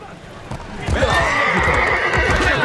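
A horse in Assassin's Creed Brotherhood gives a loud, close whinny lasting over a second, with hoof clip-clops and game sounds underneath and a voice talking around it.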